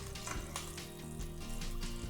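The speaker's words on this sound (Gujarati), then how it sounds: "આ જ રીતે બધા સમોસા આપણે તળી લઈશું" Samosas deep frying in hot oil, a steady close crackling sizzle that runs without pause, with soft bubbling and a few brighter spits of oil over a low background hum.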